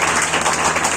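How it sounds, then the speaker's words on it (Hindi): Loud, dense applause from an audience at a coaching class's foundation day program, a close, steady burst of many hands clapping with no voices. "जोरदार तालियों से स्वागत किया जाता है"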